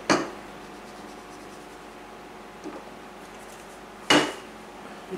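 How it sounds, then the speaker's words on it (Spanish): A utensil clinks sharply against a bowl while mustard vinaigrette for a bean salad is stirred: one clear strike at the start, a soft tap midway and another sharp clink near the end, with quiet between them. "Removemos bien removidito"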